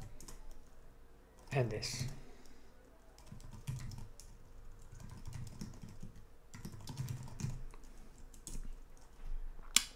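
Typing code on a computer keyboard for IBM i/AS400 RPG programming, steady bursts of key clicks close to the mic, with someone talking over parts of it.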